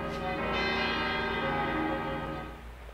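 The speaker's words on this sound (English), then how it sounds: "There's the bell." Church-style bell tolling in Valkyria Chronicles II, a long sustained ring with rich ringing overtones that swells and then slowly decays, heard alone without talk.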